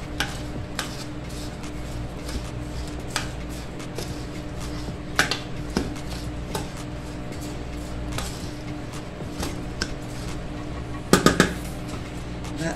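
A spoon scooping freeze-dried milk powder into a freeze-dryer tray: faint, scattered scrapes and light clicks over a steady low hum, with a brief cluster of sharper taps near the end.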